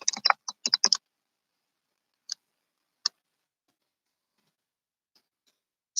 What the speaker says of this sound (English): Typing something, sorry.